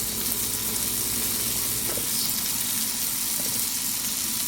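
Onions for fried rice frying in a pan, a steady broadband sizzle with watery hiss running unbroken and fairly loud throughout, no voices.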